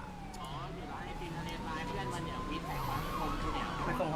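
Police car sirens wail in a roleplay video game, several overlapping rising and falling tones sounding continuously at moderate loudness beneath faint background noise.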